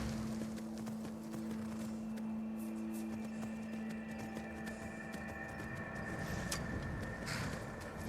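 Steady clip-clop of horse hooves in Skyrim plods along at a walking pace, fairly faint beneath a low hum.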